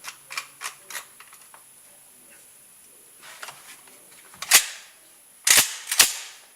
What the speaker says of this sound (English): Give it a test. Dry fire it. Cock it.